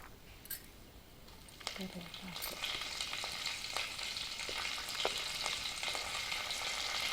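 Whole spices for tempering frying in hot oil for nalleru (veldt grape) chutney, a steady close sizzle with scattered crackles and pops throughout, a few faint voices briefly in the background.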